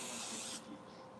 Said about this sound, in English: I'm going to spray this right here.